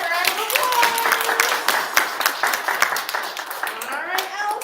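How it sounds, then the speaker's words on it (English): Audience applause at a school spelling bee, a dense crowd clapping continuously and fairly close, with voices and cheers mixed in. "All right, round of applause."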